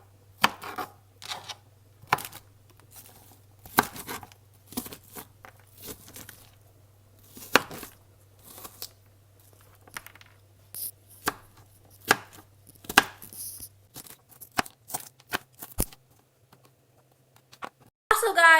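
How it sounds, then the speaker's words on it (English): A knife chops onions steadily on a cutting board in irregular bursts of quick, sharp taps, close by, with a low hum underneath and brief rustling near the end. "she is now chopping the onions"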